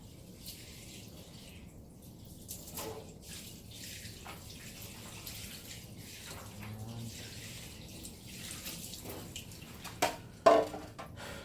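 Water rinses over a Dip Box condenser coil during a detail clean, a steady hiss of spray running throughout with a few louder splashes near the end.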